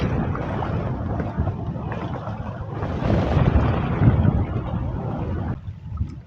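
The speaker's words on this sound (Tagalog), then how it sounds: "Grabe, lakas ng hangin." Strong wind buffets a small fishing boat on the water at Angono, Rizal, a loud steady roar of gusts rushing across the microphone, swelling midway and easing near the end.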